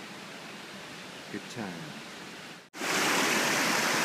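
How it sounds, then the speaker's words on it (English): A waterfall at Cascade Falls on a forest trail, heard as a loud, steady rush of broadband water noise that surges up after a brief voice and holds at full strength to the end. "This is Cascade Falls."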